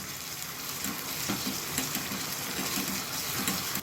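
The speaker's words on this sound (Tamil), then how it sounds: "சேர்த்துட்டு இது பச்சை வாசனை போகிற வரைக்கும் நல்லா வதக்கிக்கலாம்" Onions and ginger-garlic paste sauté in a pan for roadside-style mushroom masala, giving a steady, dense sizzle that holds evenly throughout, close and uninterrupted, with no voices.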